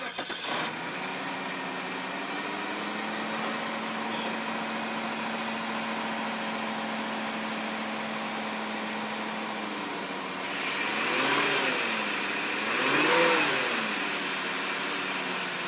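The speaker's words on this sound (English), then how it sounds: "Jeremy, start this engine for me." A 2002 Cadillac DeVille with a 4.6 liter engine cranks and catches near the start, then settles into a steady, smooth idle, with two brief revs rising and falling toward the end; no one speaks.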